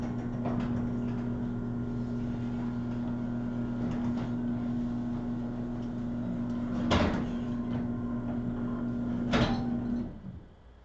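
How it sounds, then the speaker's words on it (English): A door in a smoky garage slides open over a steady mechanical hum, with two sharp clunks a couple of seconds apart before the hum cuts out. "I'm just going to open the door."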